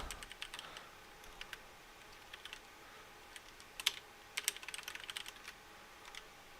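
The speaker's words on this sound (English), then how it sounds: "I'll type the app name in chat" Quiet typing on a computer keyboard during a chat, irregular clusters of light key clicks with short pauses, a faster flurry near the middle, set against low room noise.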